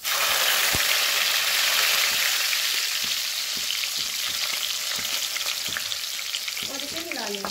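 Garlic sizzling with cumin seeds in oil in a pan, a steady loud frying hiss with scattered pops and crackles and some stirring scrapes near the end.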